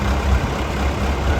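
Freshly rebuilt engine of a JCB 214S backhoe loader running steadily at idle, a close, continuous low diesel rumble with an even throb and no voices.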